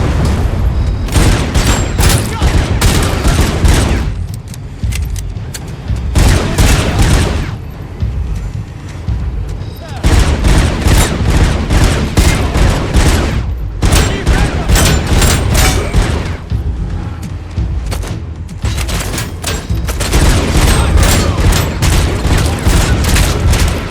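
Automatic submachine gun bursts in a shooter video game, loud and close, with rapid rattling volleys and booming impacts repeating through the whole stretch, broken by a few brief lulls.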